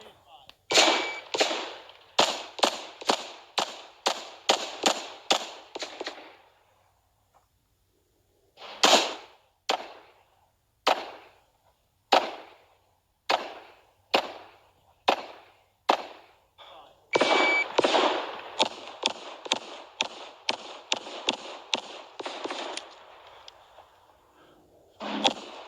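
Sharp gunshots from a Gen 5 Glock 17 pistol with a Zev slide ring out during a USPSA Carry Optics match stage, fired in rapid strings of close, loud cracks. A slower paced volley sits between two fast bursts.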